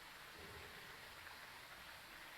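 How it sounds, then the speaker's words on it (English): Steady rain in the video game Phasmophobia, a soft continuous hiss of falling water heard faintly and unbroken, with no voices. "Oh, that could be the rain, hey?"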